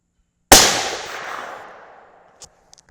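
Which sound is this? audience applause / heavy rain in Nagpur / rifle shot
rifle shot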